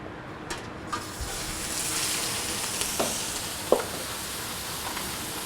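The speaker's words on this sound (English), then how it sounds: "we're gonna go ahead and saute the beef" Beef sautés in a hot, oiled pan, giving a steady close sizzle with a few scattered clinks and scrapes of stirring.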